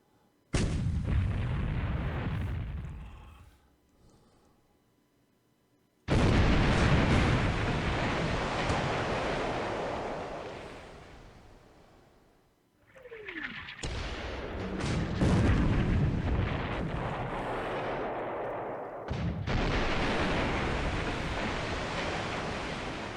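Naval shell fire in a WWII Pacific strategy game set in June 1942, with 8-inch shells and long lance torpedoes: several loud, sustained booming bursts of gunfire with rumbling, surf-like noise between salvos and no talk.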